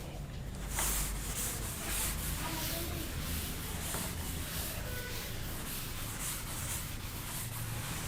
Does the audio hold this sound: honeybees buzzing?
no